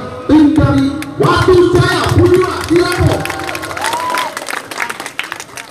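Crowd at a UMC Cup 2022 sports event applauds and cheers to welcome a team, loud, dense clapping with cheers and whistles, while an announcer's amplified voice carries over the top.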